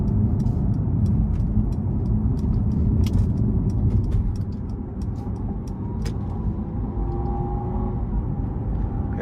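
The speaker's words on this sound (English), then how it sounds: "let's see how it drives with a twin turbo V12" A 2019 Maybach S650 with a twin-turbo V12 in sport mode gives a loud, steady low engine rumble with road noise from inside the cabin, easing slightly midway.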